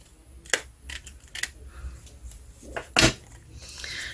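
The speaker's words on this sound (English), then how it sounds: "Right, now what I'm going to do is I'm going to cut this bit off here." Scissors snip a piece off a craft embellishment, a few sharp close clicks and cuts scattered across a quiet tabletop, with light handling rustle between them.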